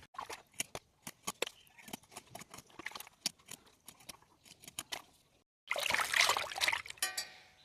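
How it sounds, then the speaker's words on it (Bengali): Cut shol and goroi fish are rinsed by hand, with a run of irregular wet splashes and clinks followed by a louder burst of rushing water near the end, close and without talk. "এখন আমি ভালো করে পরিষ্কার করে ধুয়ে নেব।"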